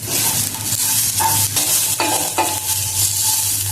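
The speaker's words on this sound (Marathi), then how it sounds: "परतून घ्यायचा मसाला छान." Masala with finely chopped coriander stir-fries in a pan for a village-style prawn curry, a steady loud sizzle broken by repeated scraping strokes of a spatula, close and without talk.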